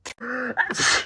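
A single sharp human sneeze, close and loud, with a quick intake of breath and then the burst, heard alone.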